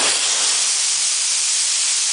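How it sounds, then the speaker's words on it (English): Compressed air hissing into a pneumatic-spring actuator, a loud continuous broadband hiss that holds steady for about two seconds. "So the air is turned on."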